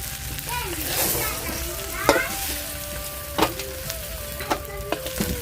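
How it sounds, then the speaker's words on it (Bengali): River-caught crab frying in hot oil in a home kitchen, a steady sizzle with a few sharp clinks and scrapes of stirring, a faint tone running underneath and a voice briefly in the background. "আমার কাঁকড়াটা ভাজা হয়ে গেছে"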